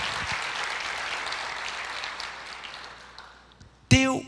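Church congregation clapping during a worship service, a broad, steady wash of applause that gradually thins out, followed by a brief burst of singing or a voice at the very end.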